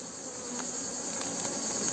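Steady buzzing of many Italian honeybees at the hive, a dense continuous hum with no voices, moderately close and even in level throughout.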